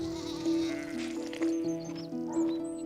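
Herdwick sheep on a Cumbrian fell farm bleat several times in quick succession, close and fairly loud, with overlapping wavering calls from more than one animal.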